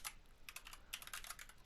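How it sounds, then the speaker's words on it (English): Quick bursts of keystrokes on a computer keyboard as a domain name is typed, close and clear, with short pauses between clusters of taps. "So let's go ahead and just type that in right now."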